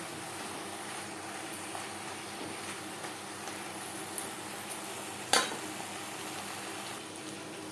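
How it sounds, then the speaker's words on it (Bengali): Ridge gourd is stirred with spices in a pan over medium heat for a fish curry. A soft, faint sizzle runs underneath, with light scraping and one sharp clink of the utensil against the pan. "ধুনুল বেশ ভালো করে মিক্সড করে দেব।"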